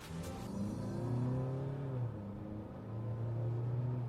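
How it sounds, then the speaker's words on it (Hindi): The engine of a 2024 Tata Safari SUV roars and revs up close, its pitch rising, dipping, then climbing again in a steady, throaty rumble. "अब ये इंजन देखो ठीक है, ये रोर बहुत करता है"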